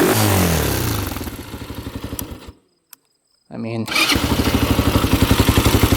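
An inexpensive $300 quad ATV engine revs hard in buzzing pulses, cuts out to near silence for about a second, then fires back up and revs steadily again, with someone talking over it.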